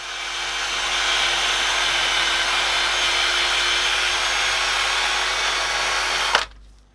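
Drill spinning a polishing bit against a metal exhaust tip, giving a steady, loud high whirring rub that holds for several seconds and then cuts off abruptly.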